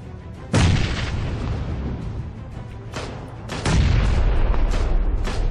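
Two heavy grenade blasts in a video game go off about three seconds apart, each a loud, close boom with a long rumbling tail over steady background noise.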